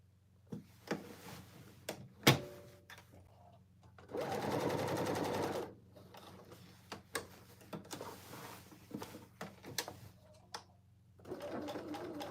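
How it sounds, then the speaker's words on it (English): Sewing machine stitching a bar tack on a cargo pants gusset pocket, in short close bursts: a loud steady run in the middle and a second at the end, separated by clicks and handling noises. "I'm going to do the same little bar tack on the other side."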